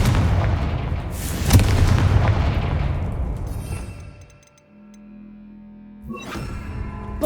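In Hogwarts Legacy, a Confringo fire-blast spell detonates with a loud, close booming blast and a long rumbling tail that fades away. Another sharp burst follows near the end.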